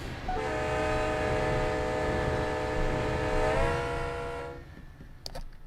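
A freight train in the Run8 train simulator game rolls past with a loud, sustained horn blast and rumbling rail noise that swells, holds, then cuts off, followed by a couple of faint clicks.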